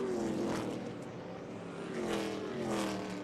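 Race cars roaring around the short oval at Irwindale Speedway during an ARCA Menards Series West race, a steady loud engine drone with passing swells.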